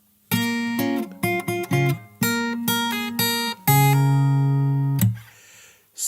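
Fingerstyle acoustic guitar picks out the opening bar of a song's chorus, a quick run of plucked notes and chords followed by a longer ringing chord that fades, close and clear with no talking.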